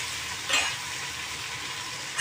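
Tomatoes frying in a pan for chicken biryani, a steady, close sizzle with a short louder hiss as they are stirred, no voices over it.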